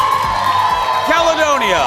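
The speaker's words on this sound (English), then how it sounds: "Look at the Christmas crowd today on this Christmas Eve day" A studio audience crowd cheers and whoops on Christmas Eve morning, a loud, dense wall of shouting voices that continues throughout.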